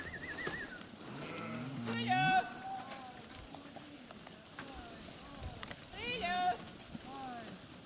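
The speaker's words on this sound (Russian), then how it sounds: "Вот овцы зашли у нас." Sheep entering a farm pen in a Russian village, several bleats and calls heard close by in two bursts, with someone speaking quietly between them.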